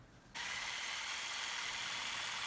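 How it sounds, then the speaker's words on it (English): A Sawzall reciprocating saw cuts through a block of homemade aircrete cured for 22 days, kicking in abruptly after a short quiet moment and holding a loud, steady, harsh rasping buzz up close to the end, with no voices. "It cut very easily with the Sawzall."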